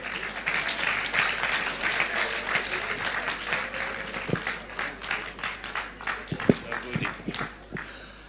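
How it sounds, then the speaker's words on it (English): An audience at a 2023 political gathering keeps up warm, continuous applause, dense clapping that gradually thins toward the end, with a few sharper individual claps, a low background hum and some voices mixed in. "Let's keep clapping."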